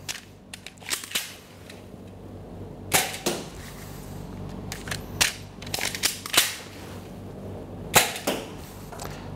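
A BoomCo Farshot toy blaster fires darts at a target in a series of sharp, loud snapping shots at irregular intervals, with fainter clicks and handling noises between them.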